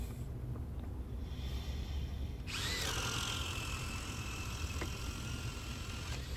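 Metabo HPT cordless drill on a T-PWR battery, not fully charged, boring a Jorgensen 1.5 inch paddle bit through wood: quiet at first, then a loud, steady high-pitched whine kicks in and holds to the end.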